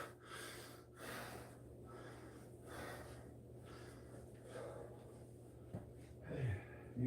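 Steady heavy mouth breathing from someone on a workout walk, a continuous rhythmic in-and-out of air, close and fairly quiet with a faint low hum behind it.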